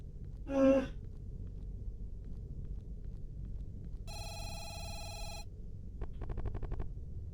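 Banana phone ringing in the video game Sorry, We're Open, a bright electronic ring burst followed by a short rapid trill, separated by quiet background hum.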